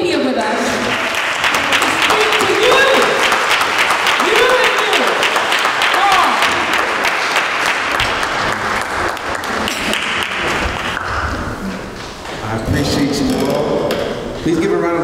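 Audience claps to welcome a speaker at an event, with sustained applause under voices and talk, fading briefly before picking up again near the end.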